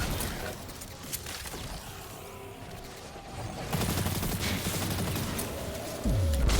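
Gunfire while shooting enemies in Destiny 2: a continuous crackle of rapid shots with layered impacts and mechanical sounds, growing louder midway and ending in a descending whoosh.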